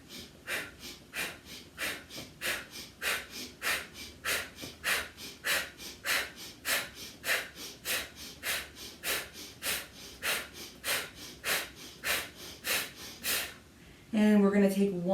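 Rapid rhythmic yoga breathing, about twenty quick, even inhale-exhale puffs at close range, followed by a voice speaking at the very end.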